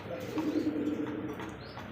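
Large white Mondain pigeons coo in a low, steady throaty murmur, close by, continuous for a couple of seconds.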